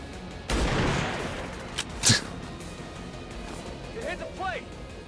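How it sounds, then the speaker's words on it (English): Sniper rifle shots from XCOM 2: a sharp, loud crack near the start and another crisp shot a second later, followed by quieter game sounds and brief voice effects. "let's finally see one of these sniper shots hit"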